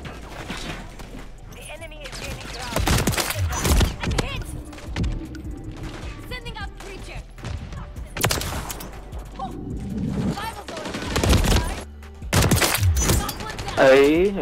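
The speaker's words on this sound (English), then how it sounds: "I mean, I'm sniping with an AK, so yeah." AK rifle fire in Modern Warfare 3 multiplayer, several loud close shots and short bursts scattered across the stretch, with mechanical clatter and game noise between.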